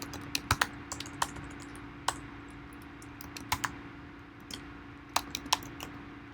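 Someone types on a computer keyboard in a quiet room, irregular bursts of crisp, close key clicks with short pauses between them over a low steady hum.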